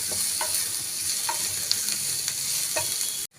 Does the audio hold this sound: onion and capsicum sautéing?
yes